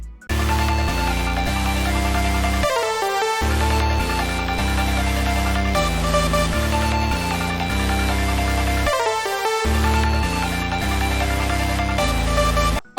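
Rage/hyperpop beat with several synth melodies layered over heavy bass and drums, playing loud and continuous with two brief drop-out pauses, no voices.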